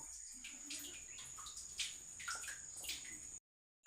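Water drips from a channel beside a well in a rural province, with scattered soft drops and trickles over steady insect chirring outdoors, ending in a brief cutoff.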